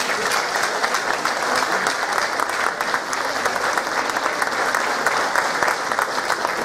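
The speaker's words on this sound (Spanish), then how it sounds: "pido un fuerte aplauso." Big, steady applause from a live audience at an evening show for older people, dense clapping sustained evenly throughout without pause.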